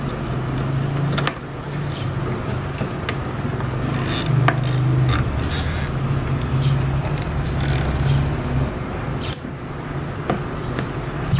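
A cable tie is zipped tight while wiring an LED controller box, giving short bursts of quick ratcheting clicks over a steady low hum, with no talking.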